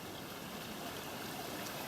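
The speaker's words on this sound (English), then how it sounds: "Here is the creek" Creek water running steadily along a bush path in Ku-ring-gai Chase National Park, a continuous close broadband rush and trickle with no breaks.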